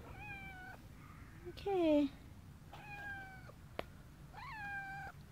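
A talkative male cat meowing close by, several drawn-out meows, one lower and more strained, spaced across a few seconds while a person speaks softly to him in between.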